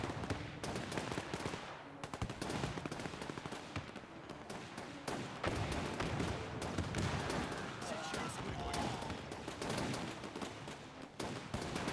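Dense, continuous battlefield gunfire in the World War II strategy game Men of War 2, with rapid machine-gun bursts and heavier cannon shell blasts cracking throughout, loud and layered, with a player talking over it.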